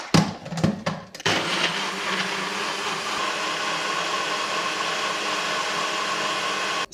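A few clunks and taps, then a blender whirs steadily at full speed, a loud continuous grinding hum that carries on without pause.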